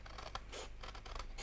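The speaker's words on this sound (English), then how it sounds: "I'm quite happy using my scissors, large scissors" Large scissors snip through a paper template and the cardstock beneath it, giving several crisp, close cutting strokes in quick succession, with no talking.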